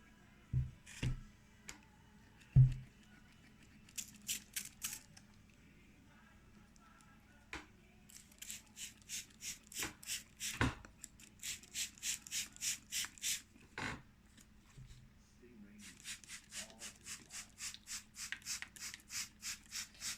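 Bursts of rapid hissing spray pulses, repeated in several runs of quick squirts from a trigger sprayer misting Siberian iris seed trays, with a few soft knocks and handling sounds between.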